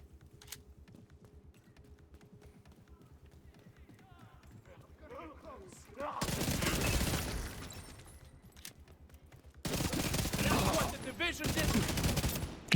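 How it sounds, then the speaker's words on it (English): Flame rounds firing in a shooter video game, two loud broadband bursts of rapid gunfire around the middle and end, separated by quieter stretches of low engine-like hum and faint game sounds. "Oh, it's flame rounds, okay."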